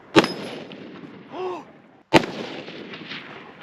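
An unusual pirate-style legal gun fires two sharp, loud shots about two seconds apart, each followed by a brief ringing decay, with a short whirring tone between them.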